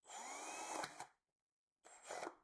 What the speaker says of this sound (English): So I'll just use a normal regular drill.